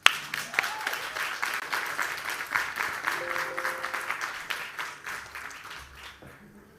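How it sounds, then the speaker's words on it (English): An audience bursts into applause at an ocean-protection talk: an opening clap, then dense steady clapping that swells and slowly fades out over several seconds. "So please, we give a huge round of applause for Charles."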